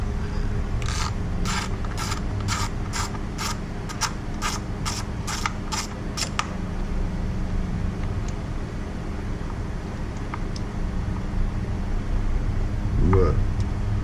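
Ratchet wrench loosening an ignition coil bolt on a Dodge Durango V6, a rapid run of sharp clicks for several seconds, close up, followed by quieter mechanical fiddling under a steady engine-bay hum.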